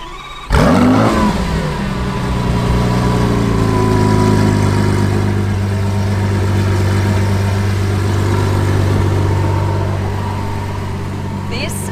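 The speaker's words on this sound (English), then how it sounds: "Sounds like no other Lamborghini in the world." A Lamborghini sports car engine fires up with a sharp burst, then settles into a deep, steady, rumbling idle close by, with a person speaking over it.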